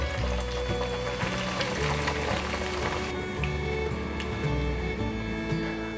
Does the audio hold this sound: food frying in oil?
yes